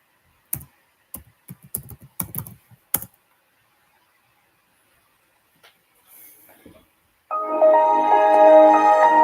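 Computer keys click in a quick, irregular burst of taps as a password is entered, followed by quiet and then a loud steady tonal hum near the end.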